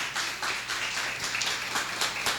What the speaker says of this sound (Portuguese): Pode aplaudir bem forte, Ele é o Senhor.